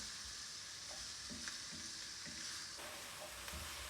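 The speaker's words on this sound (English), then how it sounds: "So we'll cook the garlic up a little bit." Garlic cooks in a pot for pasta fagioli, giving a steady low sizzle with soft scraping stir strokes at a moderate distance and no talking.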